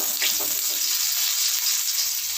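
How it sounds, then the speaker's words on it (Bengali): Potatoes frying in mustard oil in a wok: a steady, close hiss of bubbling oil with faint crackles, continuous and fairly loud with no talking. "এবার আমি কেটে রাখা আলুগুলোকে খুব ভালো করে ফ্রাই করে নেব।"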